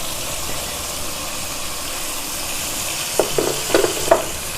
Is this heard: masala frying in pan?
yes